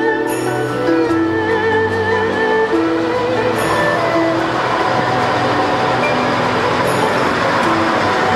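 A Geibi Line train departs Bingo-Ochiai station in Japan, rumbling and squealing steadily nearby, wheels and rails grinding with brief high-pitched screeches, no voices.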